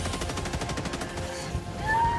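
Rapid automatic gunfire in the video game Helldivers 2, a fast string of evenly spaced shots that stops after about a second and a half, followed by a rising whine.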